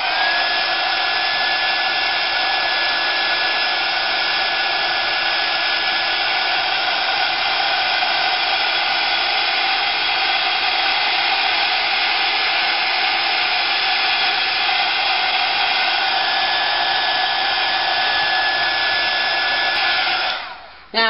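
A hair dryer blows steadily on a picture transferred onto a table decoration, a loud continuous whir with a high whine that holds for about twenty seconds before switching off at the end.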